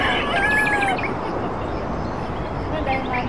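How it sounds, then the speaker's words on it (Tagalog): Chickens and a rooster on a mountain trail on Mt. Makiling, with a clear crow followed by more clucking and calls, while people talk nearby. "Ang daming manok ka naman."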